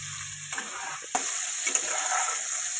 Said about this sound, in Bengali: এইভাবে আমি সমস্ত সবজিগুলো ভেজে নেব শুক্তো বানানোর জন্য।